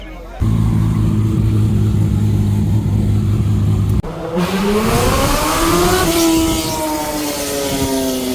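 A 1600+ wheel-horsepower high-compression Nissan GT-R and a Suzuki GSX-R motorcycle run at a drag strip. A loud engine drone holds steady, then rises in pitch as it accelerates through the gears, close and dominant.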